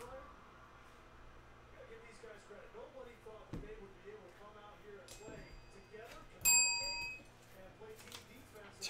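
A bell struck once during a Panini Spectra football card box break, a bright ringing ding with sustained tones, loud against steady background talk.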